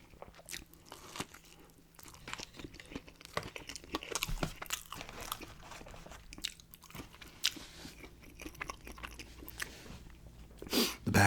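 Biting and crunchy chewing on Hardee's fast food, close to the mic, with steady mouth sounds and occasional crinkling of wrappers through the stretch; no talking.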